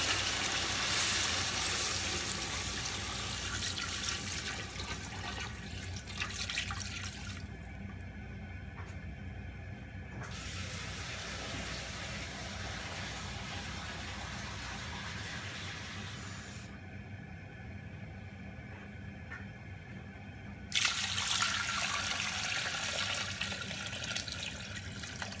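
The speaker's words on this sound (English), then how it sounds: "Okay, so I've added 6 liters of water to this." Water pours into a pot over lamb necks for Persian ab-goosht, a steady splashing rush that stops briefly twice before resuming, close and fairly quiet.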